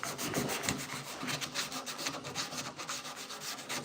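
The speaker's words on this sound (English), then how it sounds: "I'm sanding on this door" Sandpaper rubbed back and forth across a wooden door, a steady run of rasping scratchy strokes with an even rhythm, close and moderately loud, with no talking.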